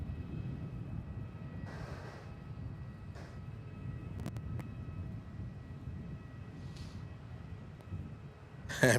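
A Jetstar Airbus A320 takes off from runway 34 at Melbourne Airport, its engines a steady, fairly distant roar that holds for the whole stretch, with a short louder burst right at the end.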